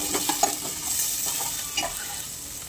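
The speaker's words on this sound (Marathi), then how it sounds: "मग त्यात टाकले आता कांदो. तो व्यवस्थित असतो त्याला लालसर होईपर्यंत परतून घेते." Sliced onion and chillies fry in a pan, a steady close sizzle with soft scraping stirs and light clinks of a utensil against the pan, no talking.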